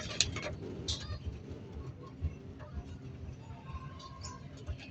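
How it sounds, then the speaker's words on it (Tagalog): Newly arrived racing pigeon back from a race release, soft low cooing and bird rustling close by, with someone talking over it. "Painumin muna natin yung ating bagong dating na kalapate, no?"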